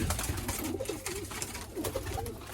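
A female Sabuni pigeon coos softly at close range, with a few low, rolling coo phrases over faint background noise.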